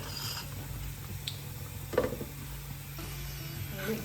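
Fresh curry leaves laid into a hot pan of cucumber and drumstick curry give a steady, close sizzle and crackle with a few small pops, alone without talk.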